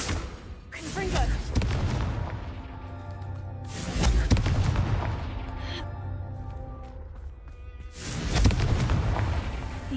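Confringo blasting spells explode in a Harry Potter game, three heavy booming blasts spaced a few seconds apart, each followed by a rumbling decay, alongside game sounds and voices.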